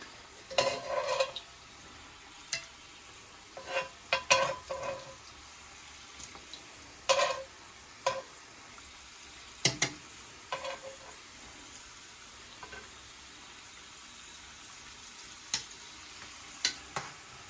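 Homemade french fries cooking in hot oil during a triple-fry process, with a steady soft sizzle broken by scattered clinks and stirring bursts of utensils against the pot, no talking.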